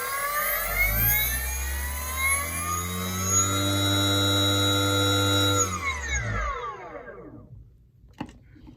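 An e-bike hub motor spun up on a test controller while its current draw is checked, a loud close whine with rising and falling harmonic tones that holds steady, then winds down and coasts to silence, followed by a single small click.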